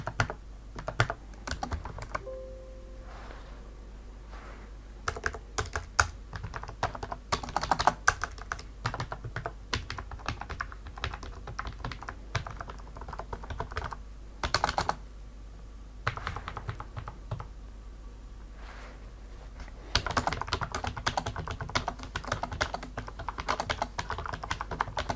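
A UHURU wireless keyboard is typed on in a close-up sound test, giving bursts of rapid key clacks and taps separated by short pauses.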